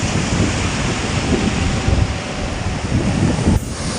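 Huge sea waves on a rough coast crash and roar in a continuous heavy wash of surf, loud and close, with wind buffeting the microphone and no voices.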